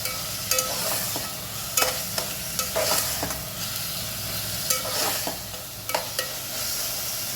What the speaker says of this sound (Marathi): बघ छान फ्राय होत आहे आपलं वाटण टोमॅटो घालूया मिक्स करायचं आहे